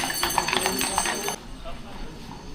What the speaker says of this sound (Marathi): तुम्ही घोडागाडी, मी तुम्हाला दाखवतो रानटी घोडागाडी